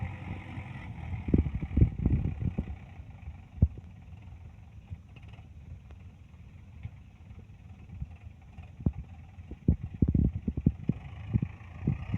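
A low 855 tractor engine rumbles continuously while working soil, with irregular knocks and louder bursts scattered throughout.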